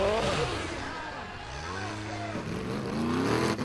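A Formula Offroad car at full throttle at an Icelandic event gives a loud, straining engine roar whose pitch rises and wavers as it climbs, with a commentator talking over it.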